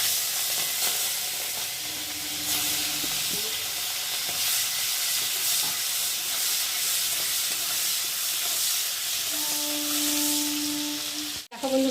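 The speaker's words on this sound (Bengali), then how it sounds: "ওই তেলের মধ্যে এখন আমি ওই যে চিংড়ি মাছগুলোকে দিয়ে ভালো করে ভেজে নেব" Prawns fry in oil in a wok with a continuous, dense hiss and sizzle that stays close and even throughout. Faint tonal hums sit underneath, and the sound cuts out abruptly just before the end.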